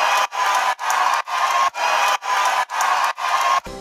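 Crowd noise sample for a future house drop, a roaring audience swell repeated in rhythmic bursts with short gated gaps between them, loud and steady.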